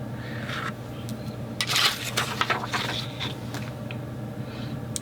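A handheld paper punch cuts paper for a scrapbook layout, giving a few sharp crunching clacks in a short cluster near the middle, close and fairly loud over a low steady room hum.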